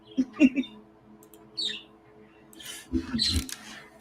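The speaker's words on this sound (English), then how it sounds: "That's the birds." A few scattered bird chirps and tweets, quiet and somewhat distant, coming in short bursts separated by near-silence.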